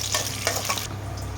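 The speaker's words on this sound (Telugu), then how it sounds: "ముందుగా కళాయి పెట్టి అందులో 4 టేబుల్ స్పూన్ల నూనె వేసి పోపు దినుసులు ముందుగా వేయించుకోవాలి." Spices temper in four tablespoons of hot oil in a kadai, giving a close, steady sizzle broken by a few quick, brighter crackling bursts, then a calmer fizz. No voices.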